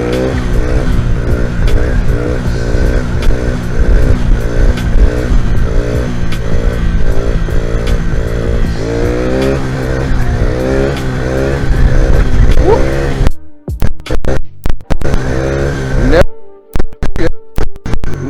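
XR70 pit bike engine revving hard in repeated rising-and-falling bursts while riding wheelies on a street, loud and close, then choppy throttle blips and cutouts near the end.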